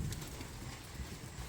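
Sheep hooves patter and clop on the ground as freshly trimmed sheep are moved out of a pen, a busy, uneven scuffle close by.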